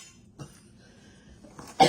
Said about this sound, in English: had to turn y'all off so I could go over there and cough